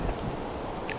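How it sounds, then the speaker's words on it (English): Torrential rain lashes a mountaintop during a storm on a coast-to-coast hike, a steady dense hiss of drops with gusting wind, close and continuous, no voices. "this torrential rain at the top of the mountain"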